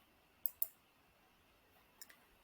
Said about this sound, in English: you're going to go ahead and click on save.